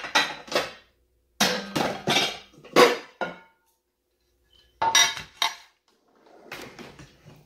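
Dishes are shifted around in a kitchen to reach a long baking dish, making several separate bursts of clattering, clinking crockery and bakeware with short quiet pauses between them.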